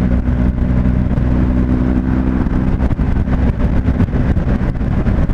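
A BMW 1250 GS motorcycle engine drones loud and close while the bike is ridden in dynamic mode, a steady throbbing mid-range hum with rising and falling revs and wind rush, with no speech.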